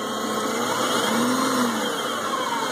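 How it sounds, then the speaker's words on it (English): A 1995 Subaru Legacy sedan with a 2.2 litre engine and high mileage runs steadily close by, a continuous mid-pitched hum with a slight rise in revs partway through. "That's what the motor sounds like."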